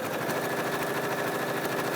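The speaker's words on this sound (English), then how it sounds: "I'm going to have 8 layers of denim here, and we're just going to do a regular straight stitch here" A Singer Futura sewing machine runs a straight stitch through eight layers of thick denim, giving a steady rapid mechanical whir with a fast even needle pulse, close and continuous for a moment.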